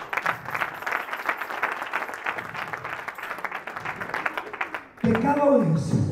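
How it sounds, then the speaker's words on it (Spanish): Church congregation applauding in a rhythmic, moderately loud stretch of clapping that fades, then gives way abruptly to a voice and music. "Dale un aplauso a Dios."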